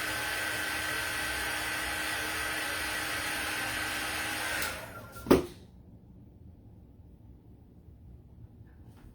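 A small handheld dryer blows over snowman muffin decorations with a steady whooshing hum that cuts off abruptly, followed by a brief clack and near silence.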